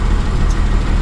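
A Cummins diesel swapped into a 1978 Dodge crew cab dually idles steadily, a dense low rumble with a faint knocking pulse running unbroken and close throughout.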